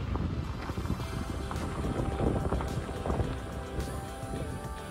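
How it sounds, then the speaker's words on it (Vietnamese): Strong wind blowing through a cherry orchard, buffeting the microphone with a constant rumbling roar and gusty low thumps, loud and continuous with no voices. "Trời gió quá"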